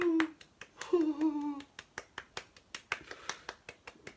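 Steady hand clapping from a small group at a company founding celebration, irregular at first under brief speech, then settling into a regular rhythm of sharp, close claps about three per second.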